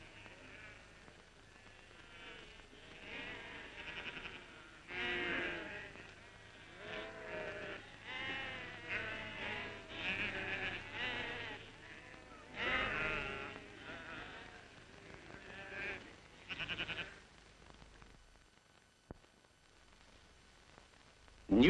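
Sheep bleating repeatedly in a crowded pen during sheep dipping on a crofting farm, calls overlapping in bursts at moderate distance, with a quieter stretch near the end.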